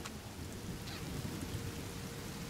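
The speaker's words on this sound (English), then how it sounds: "Aw, man, it's gonna rain now?" Rain and thunder in The Forest video game, a faint, distant, continuous wash of rainfall with a low rumbling underneath, quiet and steady with no voices.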